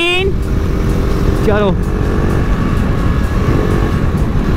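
A KTM superbike engine accelerates hard, with a loud rising whine and a quick shift partway through, continuous and close under a brief spoken word.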